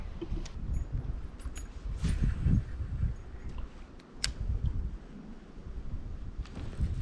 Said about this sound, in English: the wind just blew 20 and whipped me around real quick